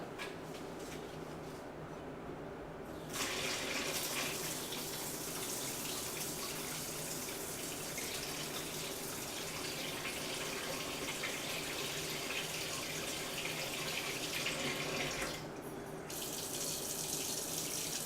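Tap water runs steadily into a cooking pot in a kitchen, a dense continuous rushing gush that swells louder after a few seconds and keeps flowing close by for the rest of the time.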